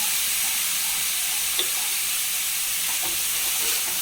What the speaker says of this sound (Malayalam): നന്നായി ഇളക്കി യോജിപ്പിക്കാം